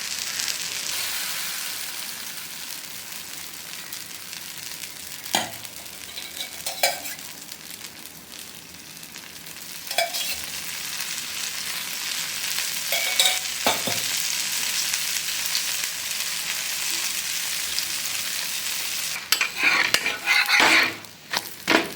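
Onion uttappam sizzles steadily on a hot pan after being flipped, a continuous close frying hiss with a few sharp scrapes and clinks of a spatula or utensil, with no voices.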